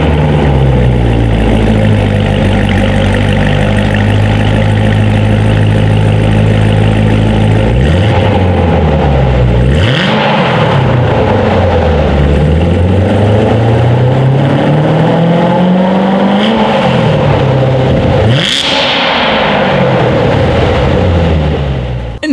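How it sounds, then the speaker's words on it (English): A 2019 Chevrolet Corvette Z06 in sport mode growls loud and close from the exhaust, idling before several sharp revs that climb and fall in pitch, with a few crisp blips and pops between long sustained pulls. "here is that exhaust clip"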